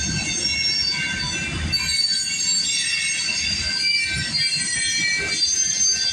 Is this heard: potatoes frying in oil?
no